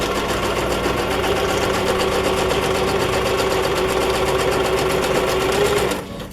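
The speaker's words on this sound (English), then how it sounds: "basting stitches are the longest stitch on your machine. They're easy to pull out." A sewing machine runs steadily for about six seconds, sewing long basting stitches down the center of a fabric journal cover, a loud, even mechanical whir that stops near the end.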